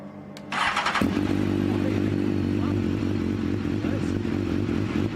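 A Formula 1 car engine is started with a brief whirring starter burst, then catches and settles into a loud, steady, rough mechanical drone with a deep pulsing rumble, heard close up.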